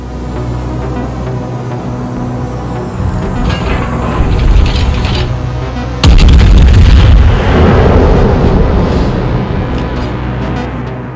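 Battleship gunfire in a naval video game with a German Tier 6 Bayern battleship, a loud booming salvo that jumps up midway over continuous engine rumble and mechanical clatter, no voices.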